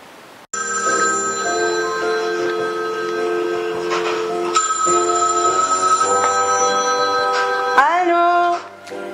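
A telephone rings steadily and loudly in a French radio advert about respecting private life, with layered electronic ringing tones running for several seconds over a faint music bed before cutting off.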